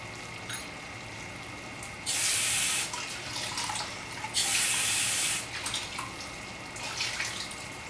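Liquid from canned black beans pours out in two strong, steady bursts, each lasting about a second, with quieter trickling and handling sounds in between. Everything happens close by in a kitchen sink.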